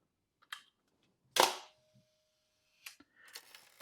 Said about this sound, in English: just move this knob here, and I will cock the shutter without winding the film